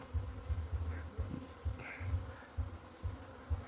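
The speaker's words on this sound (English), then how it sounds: "So those are the bees." Bees buzzing around a hive kept in a full clay pot outdoors: a low, steady, pulsing hum of many insects, fairly faint, with occasional closer passes.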